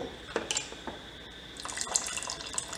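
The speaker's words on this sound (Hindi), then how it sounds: "आप चाहें तो इसमें थोड़ा सा पानी डाल सकते हैं" Water poured from a tap into a pot of dal and vegetable khichdi being cooked as baby food, a quiet splashing trickle with a few sharper drips, running close by without speech.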